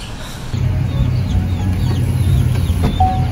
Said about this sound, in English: We got our hen and little children.